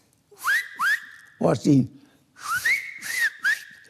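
Finger whistling in the whistled language of Tenerife: a series of loud, close, sliding whistled phrases, with a brief burst of voice between the first pair and the later group.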